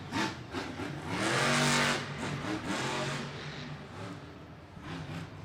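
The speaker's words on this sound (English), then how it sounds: "They changed an entire motor in this Monster Jam truck just since the show started" A Monster Jam truck, the Bakugan Dragonoid with a freshly swapped motor, revs hard in a stadium, its engine roaring up to a loud sustained peak and falling back in waves, with no one talking.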